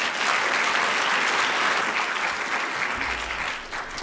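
Steady, loud applause from a lecture audience welcoming art historian Stephen Campbell to the stage, a dense even clatter of clapping hands filling the room before easing slightly near the end.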